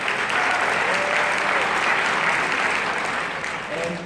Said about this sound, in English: Round of applause, Michelle.